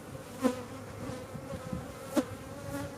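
Honey bees buzz steadily around an open hive during a brood inspection, a dense continuous hum with a couple of individual bees droning louder as they pass close by.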